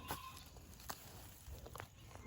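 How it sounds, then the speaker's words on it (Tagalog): A faint bleat from a pregnant goat sounds briefly at a distance over quiet outdoor background noise, with a few soft rustles and steps. "Ang ingay ng ano, kambing."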